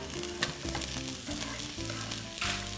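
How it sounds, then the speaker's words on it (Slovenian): Asparagus sizzles steadily in a hot frying pan while being stirred, giving a continuous close frying hiss with a few soft scraping knocks from the utensil and no voices. "zdaj bomo pa še šparglje dali tukaj v tole"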